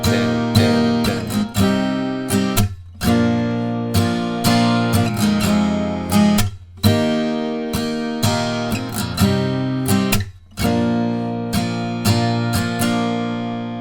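A guitar strums the chorus of a song in a steady down, up, mute pattern. The strokes are loud and close, with brief muted gaps between chord changes. No one talks.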